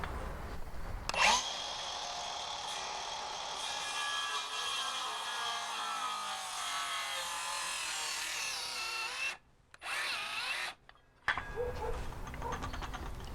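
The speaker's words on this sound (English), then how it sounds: "So I'm just going to do this with the cordless skill saw." A cordless circular saw cuts through a wet wooden fence post outdoors, with a sharp spin-up, a long loud whining cut lasting several seconds, then two brief stops and a restart near the end.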